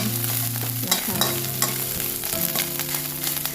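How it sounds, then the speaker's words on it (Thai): Thai curry paste for a wild-style curry with small river fish being stir-roasted in a pan over low-to-medium heat, a steady close sizzle with scraping stir strokes throughout and no voices. "ใช้ไฟ อ่อนๆประมาณกลางเนี่ยลงไปคั่วให้พริกแกงหอม"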